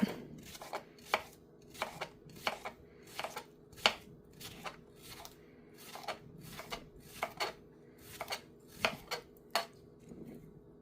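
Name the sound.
chopping vegetables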